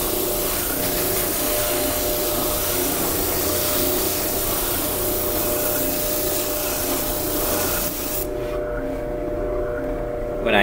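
A spindle sander grinds against wood in a continuous, even drone that carries on for several seconds before quieting slightly near the end.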